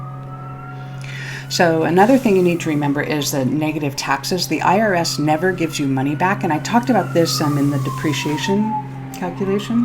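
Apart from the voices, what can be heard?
siren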